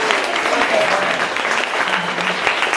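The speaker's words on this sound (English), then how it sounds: "let's give a big round of applause to all of our presenters" Audience applause for presenters at a town hall visual art evening, dense steady clapping filling the room with some voices mixed in throughout.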